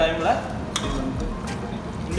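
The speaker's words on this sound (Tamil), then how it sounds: "பாருங்கள், குழம்பு நல்லா கொதிக்க ஆரம்பிச்சிடுச்சு." A pot of sardine curry bubbles and simmers at a steady low level, with a few light utensil clinks and scrapes nearby.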